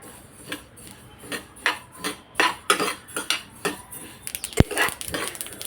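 Sesame seeds dry-roasted in a pan for gul poli, stirred with a metal utensil that scrapes and taps the pan in a steady rhythm of roughly two strokes a second, close up with no talking.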